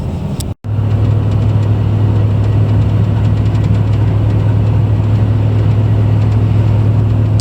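A truck engine drones steadily while driving on a winter road, a loud low hum inside the cab with constant road rumble and a brief dropout near the start.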